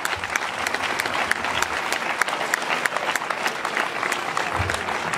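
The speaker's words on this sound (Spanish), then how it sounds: "un fuerte aplauso" A crowd at an award presentation for the Legua Castellana race in Monleras gives steady, sustained applause. Many hands clap at a moderate distance for several seconds with faint crowd murmur underneath.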